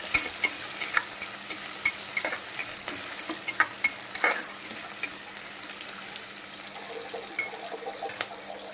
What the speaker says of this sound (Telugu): మంచిగా వేగాలండి.